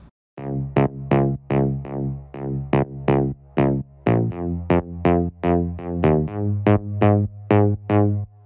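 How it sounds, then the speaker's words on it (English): A gritty synthesizer saw bass plays a rhythmic run of short, punchy notes, alone and upfront, with slight pitch shifts between phrases. "we have the main saw bass sound. It sounds like this by itself."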